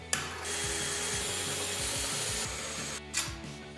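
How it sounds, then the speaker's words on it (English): A power drill whines steadily as it bores holes through skis, with a brief pause and restart near the end and some clunking handling noises. "now I'm gonna drill holes through them so I can mount them with bolts"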